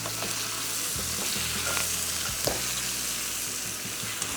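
Mixed vegetables with peas and pumpkin sauté in butter in a pan, crackling with a constant sizzle. Scraping stirs come through close up over the frying.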